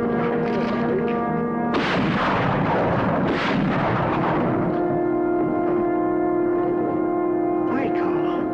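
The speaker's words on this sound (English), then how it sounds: "I'm going to shoot you." A loud gunshot blast in a TV western drama at night, a broad burst that booms and rings out over a steady tonal hum and music, with a second swell of noise following.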